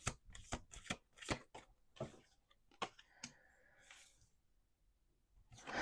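Playing cards riffled in several quick crisp bursts of flutter and snap, fairly faint and close, with brief pauses between shuffles and a longer quiet stretch near the end.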